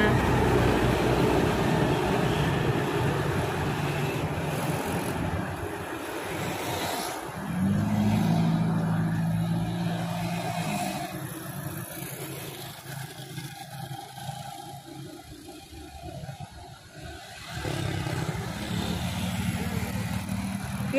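A Rajawali tour bus rounds a bend on a winding mountain road, its engine droning loud and close, then easing and rising again as it passes, with a faint voice in the background.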